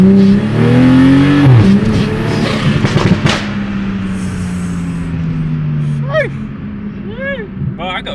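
A car accelerates hard with its wheels spinning at a car meet, a loud sustained engine roar and tire noise rising and falling under people talking nearby, with a sharp whistle-like squeal toward the end.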